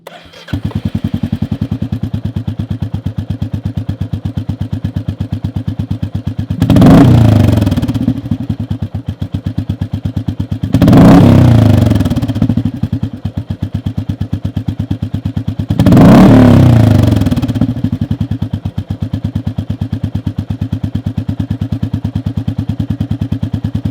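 A Royal Enfield Meteor 350 motorcycle engine idles with a steady low thump, revved loudly three times in short bursts before settling back to idle.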